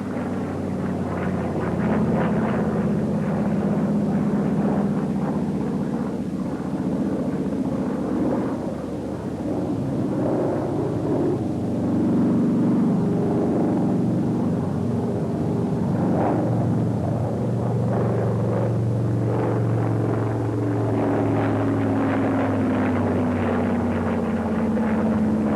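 SB2A Buccaneer propeller aircraft flying aerobatic manoeuvres, a loud continuous engine drone with shifting pitch that swells and fades as it banks, filling the whole stretch.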